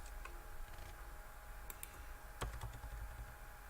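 Quick keyboard typing for a Minecraft sign: faint, close key clicks in small bursts over a low background hum, with a denser flurry of taps partway through and no voices.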